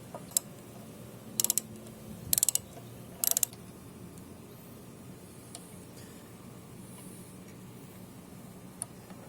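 Ratchet wrench clicking on 3/8-headed carburetor bolts of a Briggs and Stratton Gold Series 190cc engine, three short bursts of rapid ratcheting clicks close by, with scattered single ticks in a quiet room.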